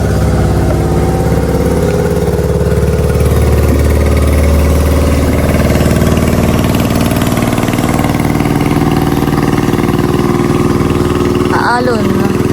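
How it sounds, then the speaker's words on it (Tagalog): A motorboat engine runs steadily on a river near a dam while people fish from the bank, a close, constant droning hum that persists throughout with voices talking over it. "May dadaan pong bangkang di motor."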